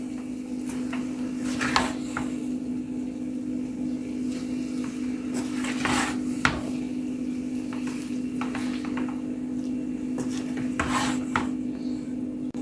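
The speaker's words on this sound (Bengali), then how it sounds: "নুডলস দেওয়ার পরে নেড়ে দিচ্ছি।" Maggi noodles are stirred in a pan, with repeated scraping and rubbing strokes over a steady background hum.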